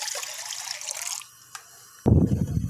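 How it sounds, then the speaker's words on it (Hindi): Two cups of water pour into a kadhai for apple murabba, starting as a bright, splashing stream, then a quieter trickle and a final low, heavy slosh, with no voices. "इसके अंदर हम 2 कप पानी डालेंगे"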